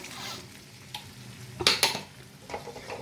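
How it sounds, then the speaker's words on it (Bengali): Raw cashew-paste paneer gravy stirred and sautéed in a pan, a soft continuous sizzle with scraping spoon strokes and a couple of sharper clinks against the pan. "এবার এটা ভালো করে হালকা হাতে একটু আমি সটে করব।"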